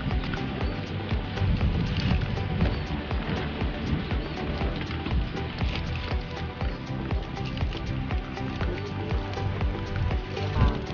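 Rain starting to fall patters and crackles densely on a surface in a constant wash of noise, with occasional faint voices underneath.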